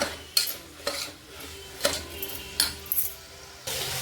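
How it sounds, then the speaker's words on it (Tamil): Beetroot being stirred and sautéed in oil in a pan, with a soft sizzle under a series of sharp clinks and scrapes from a spoon against the pan, spaced irregularly at close range. "இதை வந்து இப்போ நல்லா எண்ணெயிலே நம்ம வதக்கிக்கலாம்"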